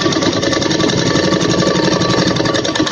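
A sewing machine runs steadily while stitching blouse fabric, giving a fast, even mechanical chatter with no pauses and no talking over it.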